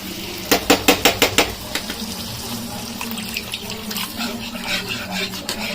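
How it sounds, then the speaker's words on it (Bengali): Plain water poured into a cooking pan of fish gravy, opening with a quick run of sharp splashing clinks before settling into a softer, steady trickle and gentle sloshing in a home kitchen. "আমি নর্মাল জল অ্যাড করবো।"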